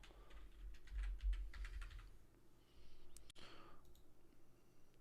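Quick bursts of keystrokes on a computer keyboard, close and fairly loud for the first two seconds, then a single sharp click and lighter scattered tapping, with no voices.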